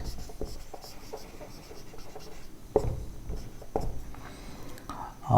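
Chalk or marker scratches across a board during a physics lecture on special relativity, a few short strokes and taps under faint background room noise, with no voice over it.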